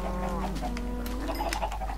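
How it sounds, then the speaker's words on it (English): Chicken clucking in Minecraft, a steady stream of soft clucks and bird calls over constant low game background noise, no talk. "Come on, freaking chicken."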